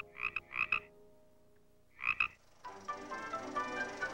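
Frogs croak in short, buzzy clustered bursts, three pulsed calls with gaps, followed by a denser, continuous chorus of croaking, fairly clear and close.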